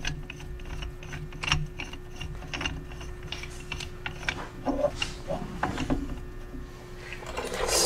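A ball joint press is screwed down by hand during a ball joint and tie rod job in a shop, giving soft irregular ratcheting clicks and small metallic taps over a steady low hum.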